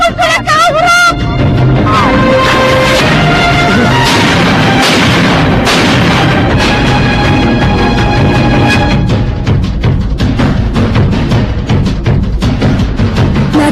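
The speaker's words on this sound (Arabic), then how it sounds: "لقد سمعنا صوت إطلاق رصاص" Gunfire effect from an anime film: loud, dense bursts of shots and booming impacts running continuously under music-like tones, with voices mixed in the action.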